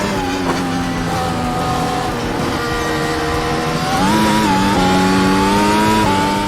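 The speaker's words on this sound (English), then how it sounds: "driving a modern Formula 1 car around the Nordschleife" A modern Formula 1 car laps the Nordschleife in a racing simulator game, its high engine whine climbing and dropping through gear changes, loud and continuous with no talk.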